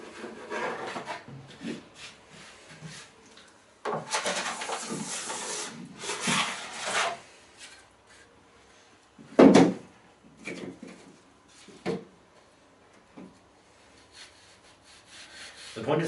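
Plastic scraper rasping leftover wax off a snowboard's base and steel edges, a few scattered strokes and one sharp scrape amid quiet pauses.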